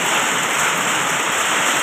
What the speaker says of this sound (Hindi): आइस का बारिश हो रहा है आइस गिर रहा है